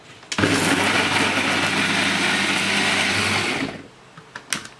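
An Omni Blade blender grinds chilies, tomatoes, garlic and shallots in one loud, continuous motor whir lasting about three seconds, then stops abruptly, leaving a few faint knocks.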